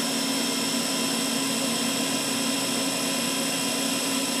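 A Nakamura-Tome TMC15 CNC lathe spindle running at around 3,000 RPM, a steady, loud, unchanging mechanical whine with sustained tonal hum and no pauses.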